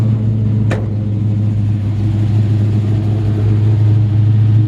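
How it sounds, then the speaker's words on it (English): Cold 1954 Chevy 3100 shortbed engine idling slightly high while warming up with the choke still on, a steady low rumble throughout with one brief sharp click near the start. "incredible sounding engine. Now the idle's a little bit high because of the vacuum"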